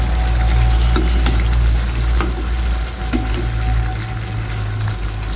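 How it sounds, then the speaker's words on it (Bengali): Surma fish cooked as a spiced bhuna with roasted cumin sizzles loudly and steadily in a pan, with occasional stirring scrapes breaking through the constant frying hiss. "এখন মাছটা আমি একটু নেড়ে ছেড়ে দেব।"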